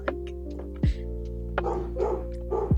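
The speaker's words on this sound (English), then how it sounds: "That's a real dog." A dog barks several times in a movie trailer, with sharp, loud yips spaced across a few seconds over a steady low hum, and no voices.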